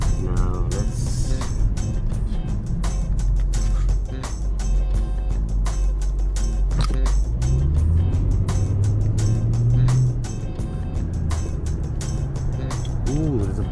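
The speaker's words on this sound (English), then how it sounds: "Ooh, there's a bunch of traffic." Road traffic passing a parked BMW E92 M3, with a steady low engine rumble and a vehicle sweeping by partway through, clearly audible at close range.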